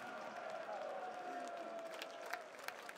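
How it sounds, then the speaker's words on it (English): A steady roar of a Danish crowd at the PGL Major Stockholm 2021 during a CS:GO semi-final between Heroic and G2 on Inferno, with scattered claps and louder bursts of cheering rising near the end, under a commentator's voice. "Cheering section starting to get pumped up here a little bit on that Danish side"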